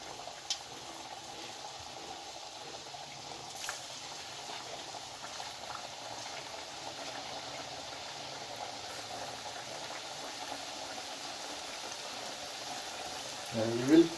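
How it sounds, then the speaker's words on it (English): Michuru dough frying in hot oil over a low gas flame, a faint, steady bubbling sizzle that continues throughout, with a louder burst of noise at the very end. "now we will put the michuru directly into the oil"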